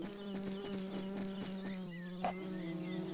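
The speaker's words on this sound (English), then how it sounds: "It's the honeybee. She's hiding in a honeysuckle flower." A honeybee hovers and buzzes around a honeysuckle flower, a steady droning hum with wingbeat harmonics that holds close and fairly even throughout, with a brief louder flick near the end.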